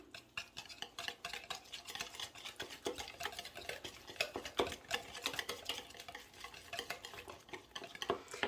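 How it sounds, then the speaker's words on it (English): A whisk beating a sauce mixture in a bowl, rapid rhythmic clicking and tapping strokes continuing close and steady without any speech. "I'm going to give this a mix with my whisk before I add the honey."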